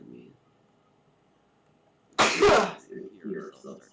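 A single sharp, loud sneeze bursting out after near silence, followed by murmured talk.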